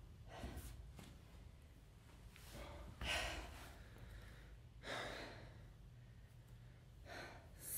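Heavy breathing after a bodyweight workout for the abs, legs and glutes, with several loud, audible exhales and gasps spaced a second or two apart, close and without speech.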